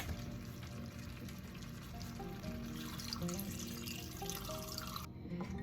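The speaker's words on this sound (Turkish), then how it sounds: "Şimdi artık içerisine suyu ilave edebiliriz." Water poured into a cooking pot holding meat and garlic, a steady liquid trickle and splash heard close and alone for several seconds.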